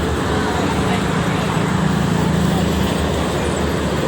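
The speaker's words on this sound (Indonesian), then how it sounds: "Untuk arah timur didominasi oleh kendaraan pribadi sama truk barang pada pagi ini." Steady morning traffic on the Jakarta–Cikampek toll road, private cars and freight trucks passing in a continuous broadband roar with a low engine drone, loud and unbroken throughout.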